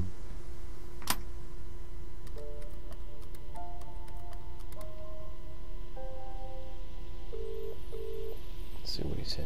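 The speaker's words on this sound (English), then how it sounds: "Let's phone the chief again." A telephone dials in the PC game Contradiction: a series of short electronic tones in an uneven sequence over a steady hum, ending with a ring.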